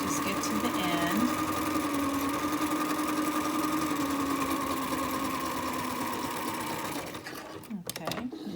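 A sewing machine runs a steady zigzag stitch over a strand of dental floss, a loud, close, continuous mechanical whir that stops abruptly near the end, followed by a few brief clunks.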